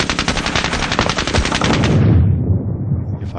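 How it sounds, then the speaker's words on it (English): A Bren light machine gun firing in a wargame video game: a rapid, loud burst of shots lasting about two seconds, then a rumbling decay fading out, with no talk over it. "Now we'll go back to the Bren."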